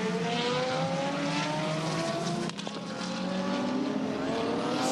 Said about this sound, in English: You can just see the grunt of that Skyline down the straight.